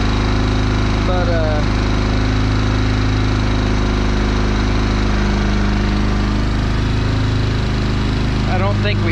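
A Yamaha Wolverine 350 ATV engine runs steadily at a loud, even drone with a low hum throughout, and a voice talks briefly over it.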